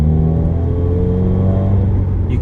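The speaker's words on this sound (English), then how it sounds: "It's insanely loud. Like, it sounds amazing. So Grimmspeed intake with the wrinkle black pipe" A 2016 Subaru WRX fitted with a Grimmspeed intake with a wrinkle black pipe revs loudly and close, a deep sustained engine drone with rumbling harmonics and steady intake roar, no voices over it.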